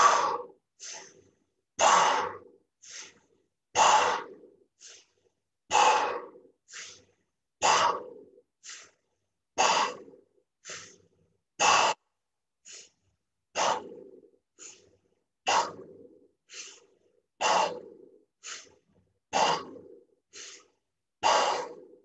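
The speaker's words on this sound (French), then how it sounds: "on commence par la bouche, la respiration canon" Rhythmic, forceful breaths repeat quickly, sharp exhalations through the mouth alternating with short pauses, close and alone without talk.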